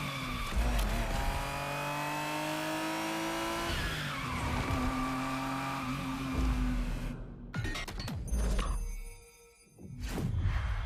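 A Ferrari Testarossa in The Crew Motorfest revs loud and close, its engine climbing through gears with tire squeal and skidding, then cutting out briefly near the end before roaring back.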